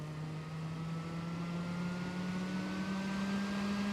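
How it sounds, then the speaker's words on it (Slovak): Stock Intel CPU cooler fan under full stress-test load, whirring loudly and steadily like a small turbine, with a strong hum that slowly rises in pitch throughout, no talking. "a chladič sa nám premení na letovú turbínu,"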